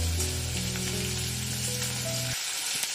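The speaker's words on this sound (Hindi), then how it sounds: "उसके लिए हल्का सा हमको बस फ्राई करना है पनीर को" Paneer sizzles in oil in a pan, a steady close frying hiss with a low hum underneath that cuts out abruptly near the end.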